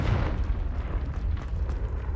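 A fiery Confringo spell blast in the Hogwarts Legacy video game, a dense low booming rumble that rolls on continuously for a couple of seconds, loud and close with no voices over it.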